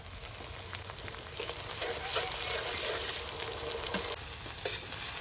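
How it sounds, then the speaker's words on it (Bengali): Cumin and coriander paste frying and sizzling in a pan with a steady broadband hiss, stirred with occasional scraping clicks, close and continuous throughout, in a village kitchen while cooking meat curry. "এবার জিরে ধনে বাটা দিয়ে দেবো।"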